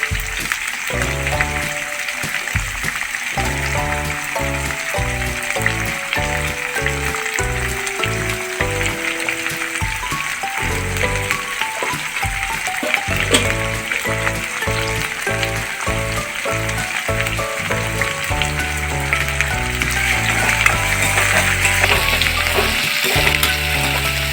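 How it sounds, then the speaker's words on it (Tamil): Ingredients for a goat head gravy sautéing in a pan until golden, a loud continuous sizzle close by for the whole stretch, with some music-like tonal background underneath and no talking. "நல்லா வதக்கி விட்டு நல்லா பொன்னிறமாக வர"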